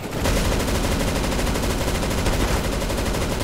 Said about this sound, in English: I'm shooting towards the ground, bro.